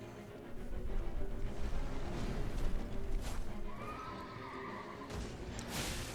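A horse neighs and whinnies loudly during a boss fight in Elden Ring, with hoof clip-clops and combat clatter around it, close and without talking.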